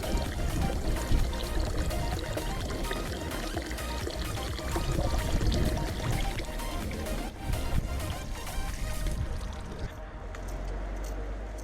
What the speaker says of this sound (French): on remonte la fontaine maintenant. Regardez, il y a des bulles.